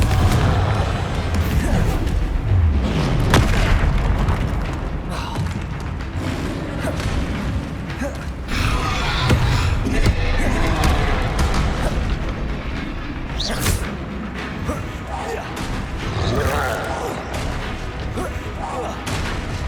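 Repeated Confringo fire spell explosions in the video game Hogwarts Legacy, loud booming blasts layered over dense game combat noise and music through the whole stretch.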